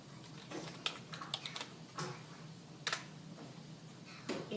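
Keys clatter in scattered bursts of typing on a computer keyboard, close but faint against a low room hum, with short pauses between clusters of strokes.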